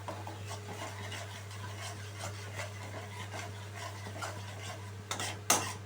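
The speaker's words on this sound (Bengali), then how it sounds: "খুব ভালোভাবে আমি এখানে মিশিয়ে নিচ্ছি" A spoon scrapes steadily through a ginger, cumin, garlic and green chili paste in a pan, giving a continuous rubbing, rasping stir that ends with a couple of louder strokes.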